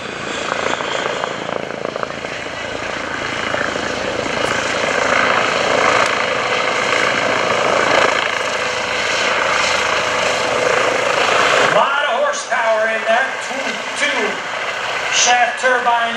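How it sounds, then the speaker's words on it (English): A Eurocopter EC135 medevac helicopter roaring overhead at an airshow, loud rotor thumping and turbine whine throughout; the low rumble drops off near the end as the whine continues. "these medevac helicopters, they have saved a lot of lives"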